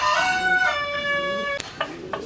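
A long-tailed rooster crows once, a clear, close drawn-out call with harmonic tones lasting over a second, followed by a few short sharp clucks and noises.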